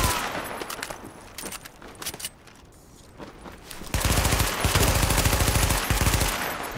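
Rapid gunfire aimed at an enemy in The Division video game, scattered shots at first, then a loud, continuous barrage of automatic fire in the second half.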